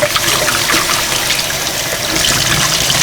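Tap water runs steadily into a kitchen sink for hand washing, a continuous hissing splash close by with no talk.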